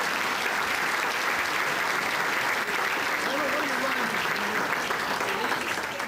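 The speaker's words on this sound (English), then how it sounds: "give her a round of applause for being super smart" An audience applauds a guest speaker, Illinois Attorney General Lisa Madigan, at a speaker's table event: a dense, steady wash of clapping that holds at full strength for the whole stretch, with a faint voice briefly underneath.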